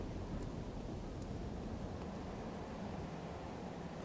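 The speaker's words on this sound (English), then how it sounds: "It's so windy." Faint, steady wind hisses through a gothic game world in Bloodborne, a continuous low broadband rush with no distinct events or voices.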